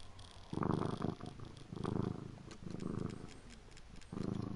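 Cat purring in a PS4 video game, a rhythmic rumble of four or five swelling breaths at an even pace, moderately loud and with no voices over it.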